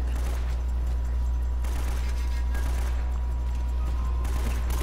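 Gunfire in the video game Uncharted: Drake's Fortune rattles in dense, continuous bursts, loud and close, with steady background noise and no clear pauses.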